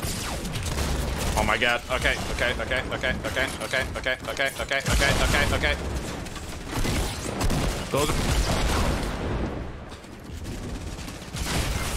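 Grenade explosions and gunfire in Fortnite, loud overlapping blasts and rapid bursts filling the mix continuously, with a player's excited voice talking over the chaos.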